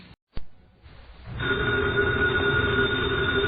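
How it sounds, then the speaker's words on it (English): After a brief click and a short pause, an old-style telephone bell starts ringing continuously, loud and steady, with a bright metallic trill, opening a radio mystery broadcast. "the ringing of that phone bell means mystery, adventure"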